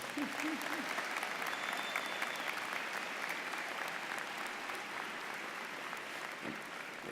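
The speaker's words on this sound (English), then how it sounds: "Let's please give our speaker one more round of applause" A graduate winter commencement crowd at UIC gives the speaker one more round of applause: a steady, even roar of many hands clapping throughout, fairly distant and soft.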